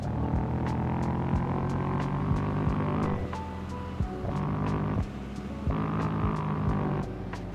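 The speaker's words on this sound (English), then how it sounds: "you're going to hit one of these rumble strips, which actually if you drive over them, it makes a noise" Car driving over interstate rumble strips in the Roblox game Greenville, a steady loud droning hum with rhythmic throbbing bursts that stop and restart several times, with no voices.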